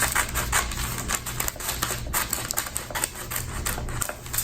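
Rapid snipping and crisp clicking of scissors working through paper, with quick irregular cuts close by and no talking.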